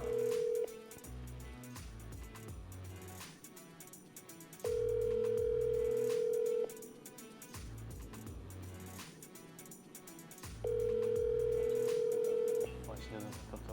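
A phone call rings out with three long, steady ringback tones at regular intervals, clear and close, over a low background of other sounds.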